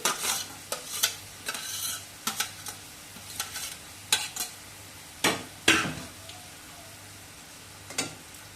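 Papaya and potato are stir-fried with ginger and ground spices, with repeated sharp scrapes and knocks of a spatula against the pan over a low sizzle. The strokes come in uneven bursts and no one speaks.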